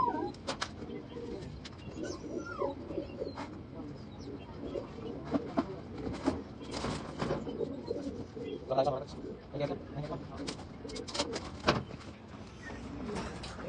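Pigeons cooing inside a small loft, a chorus of low repeated coos and rustling, with a person talking over them.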